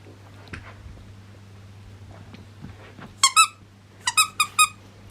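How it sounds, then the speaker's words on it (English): A dog bites down on a squeaky toy indoors, producing a squeak followed by a burst of three or four quick squeaks, loud and close, with faint low background hum and soft handling noises before. "She'll just continuously bite on the squeak until the squeak no longer squeaks"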